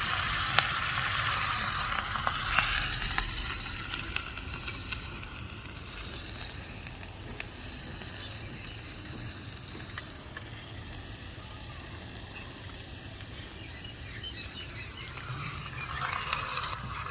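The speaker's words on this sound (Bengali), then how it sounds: "তাহলে এবার পেঁয়াজটাকে একটু নাড়াচাড়া করে নেবো।" Onions fry and are stirred in a small miniature cooking pan, giving a steady close sizzle with soft scraping and stirring strokes throughout and brief louder crackles near the start and end.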